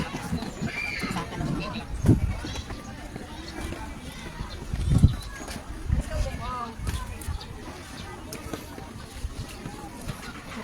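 A horse giving up or tiring, with hoof clops and a brief whinny-like snort around the middle, heard amid chatter and outdoor noise with people talking throughout.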